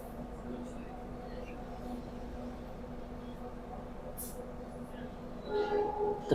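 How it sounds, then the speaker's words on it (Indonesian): The Ijen Express, hauled by a CC201 diesel locomotive, pulls out of Malang station in Indonesia: a low, steady engine drone hums throughout before a louder, tonal horn blast sounds near the end. "kereta api Ijen Express berangkat dari stasiun Malang."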